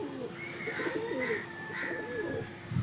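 Bider pigeons coo in a loft with soft, repeated throaty calls at close range in a quiet space.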